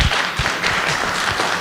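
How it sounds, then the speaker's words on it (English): Audience applause at a panel discussion on the all-volunteer force, a short steady wash of clapping with a few louder individual claps near the start, filling the whole moment without any talk. "I hope you all are applauding because that was a good answer"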